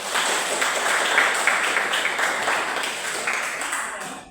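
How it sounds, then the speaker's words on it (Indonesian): Students in an Indonesian school religion class clap their hands together in a steady, dense burst that carries on for several seconds, fairly loud and close in the room. "Tepuk tangan dulu"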